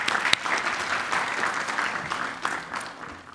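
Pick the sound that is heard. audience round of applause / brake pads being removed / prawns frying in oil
audience round of applause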